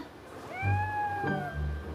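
A person imitates a cat's meow, giving one drawn-out, rising-then-falling mew near the mic, followed by a second shorter mew, with low room rumble beneath and no talk over it.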